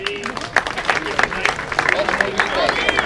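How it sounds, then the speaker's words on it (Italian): An audience applauds at an amateur boxing event in Raldon, scattered claps over a murmuring crowd, with voices talking through the noise. "Un bel applauso di nuovo."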